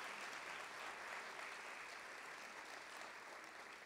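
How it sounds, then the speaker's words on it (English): Convocation audience applauding steadily, a faint, even wash of clapping from a distant crowd with no speech over it. "Please give her a round of applause for her leadership."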